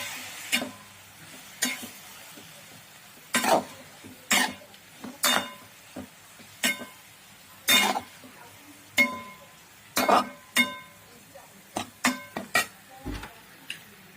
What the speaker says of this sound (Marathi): चांगला एकदा हलवून घ्यायचं परत।